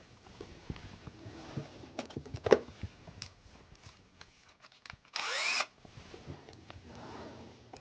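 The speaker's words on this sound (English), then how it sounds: "Even drilling acrylic is never really a good idea because it has a tendency to break quite easily." Power drill boring into acrylic on a small 3D printer build, scattered clicks and handling noises at close range, then a short, loud whirring burst of drilling lasting about half a second before quieter handling resumes.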